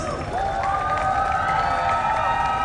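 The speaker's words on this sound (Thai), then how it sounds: "so give big round of applause to Mr. Lucas" A crowd at Central Embassy's Win Metawin fan event applauds and cheers for Mr. Lucas. The roar is dense, steady and loud throughout, with high-pitched shrieks and calls rising over the clapping.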